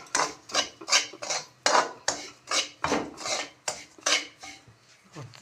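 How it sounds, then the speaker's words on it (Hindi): Semolina being stirred into ghee in a wok on the stove, heard as repeated scraping and rasping strokes of a spoon against the metal pan in a steady rhythm, close and moderately loud with no talking. "अब सूजी को अब इसके अंदर घी के अंदर मिक्स करेंगे खूब"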